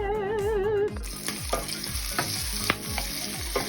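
Breaded, parmesan-crusted cauliflower pieces frying in a hot pan, sizzling steadily with sharp pops and crackles. A brief tonal warble comes at the start, then dense frying noise continues up close, with no one speaking.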